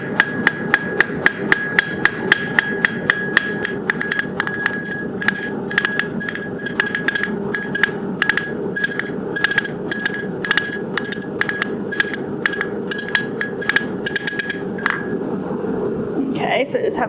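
A blacksmith hammers a forged J hook on an anvil, smoothing its taper round with steady, rapid ringing blows over a continuous background hum, with occasional speech mixed in.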